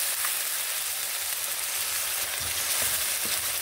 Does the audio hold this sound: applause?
no